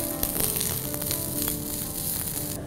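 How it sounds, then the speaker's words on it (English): Onion and grated coconut roasting in a pan for a Konkani calamari dish, a steady close sizzle and crackle running throughout with faint stirring scrapes and no voices. "add the coconut and again roast it till it goes brown in color"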